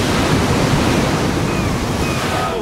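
Sea waves wash and churn in a steady, loud roar, with wind buffeting the microphone throughout and no break in the surf.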